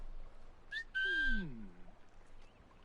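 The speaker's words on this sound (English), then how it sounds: "this is the first game that shows you how far out your whistles extend" A player character whistles in Assassin's Creed Rogue: two short rising whistle notes, then a sustained tone and a falling sweep, clear over a quiet in-game ambient bed.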